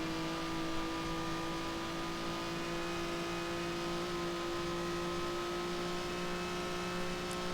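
A 1955 Formula One race car engine in the video game Grand Prix Legends at Spa, Belgium, holding a steady, even drone with a constant whine at moderate volume throughout, no shifts or talk.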